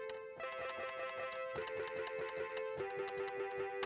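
Bright electronic piano tones from an Adafruit Meowsic cat toy piano ring out as a string of quick notes and two-note chords over about four seconds, soft and up close with no talking.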